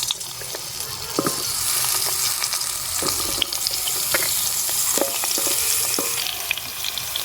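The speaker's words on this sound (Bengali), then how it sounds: "এবারে পটলগুলো ভেজে নিচ্ছি" Cut pointed gourd (potol) frying in a little oil with a dense, steady hiss close by, marked by occasional soft taps and scrapes of a spatula.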